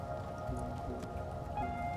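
Rain and hail beat down steadily in the Space Engineers video game, a dense, constant patter with a low rumbling weather bed throughout, loud and unbroken with no speech.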